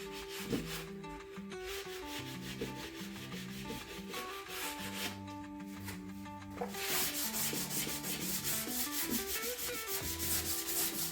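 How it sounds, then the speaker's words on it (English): Steady rhythmic rubbing of sandpaper across a wooden furniture piece, close and continuous with back-and-forth strokes, over faint background music. "This isn't like massive sanding to get finish off before you paint something or before you stain it."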